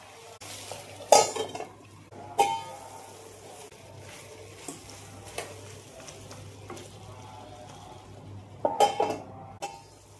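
Chicken and sliced big onions sautéing in oil in a pan, a low continuous sizzle broken by a few loud metal spoon clanks and scrapes against the pan, close and without speech.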